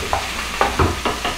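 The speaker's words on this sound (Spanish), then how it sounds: "voy a vaciar mi carne para freírla" Pieces of beef steak tipped into a hot pan, with short scraping and stirring strokes over a soft sizzle, about five distinct close clatters.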